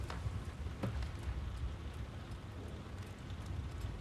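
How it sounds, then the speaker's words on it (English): Heavy rain pouring at night, a dense steady wash of noise with a low rumbling roar underneath and occasional faint drips, constant throughout with no voices. "It's pouring with rain."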